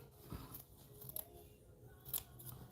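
Scissors cut through satin scrap fabric in a few short, crisp snips, close and quiet, with soft handling noise between the cuts.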